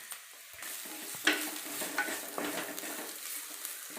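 Tamarind and garlic fry in a pan while being stirred, a soft continuous sizzle with scraping stirs and a couple of small metallic clinks.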